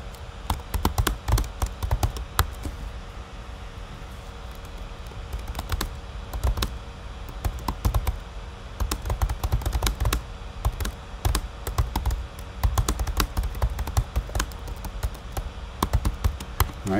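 Computer keyboard typing in irregular bursts of close, crisp keystrokes with short pauses, steady throughout, no talking.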